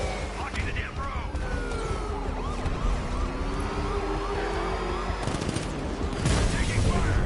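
Gunfire in a Batman video game, dense bursts of shots under a continuous wailing siren and roaring vehicle noise, with voices talking over the loud, busy action throughout.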